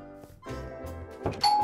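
A house doorbell sounds with a sustained tonal chime, then a sharper ding near the end over a few soft knocks and thumps, heard at moderate distance with no one speaking.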